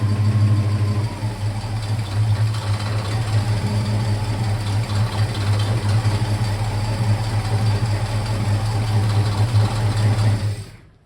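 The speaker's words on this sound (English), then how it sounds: "So it was idling, fast idle 1500" A 1963 Ford Falcon Sprint engine runs at a fast idle of about 1500 rpm, a steady, close, low throbbing drone for about ten seconds before it cuts off abruptly.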